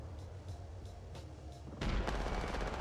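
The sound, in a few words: gunfire in a video game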